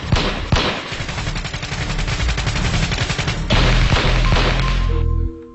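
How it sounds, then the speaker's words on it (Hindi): Loud, rapid gunfire in continuous automatic bursts, dense and overlapping, ending abruptly. "इस ऑपरेशन में गोलियां तो बहुत चली"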